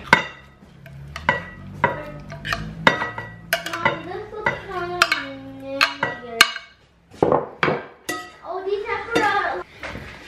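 A spoon stirs pico de gallo in a bowl, giving repeated clinks and scrapes against the bowl in an irregular rhythm, close and clear, while a person talks over it.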